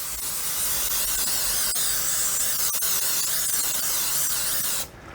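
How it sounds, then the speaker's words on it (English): Cooking spray hisses from an aerosol can into two loaf pans for cake batter, one long continuous close spray lasting nearly five seconds before cutting off. "I'm going to spray them really well"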